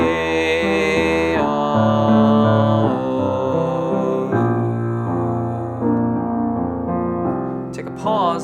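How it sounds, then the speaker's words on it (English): Chord changes played for harmonization practice, a sustained harmonic progression moving through several chords at a steady pace, loud and alone with no talking. "we're going to play the chord changes 3 times consecutively"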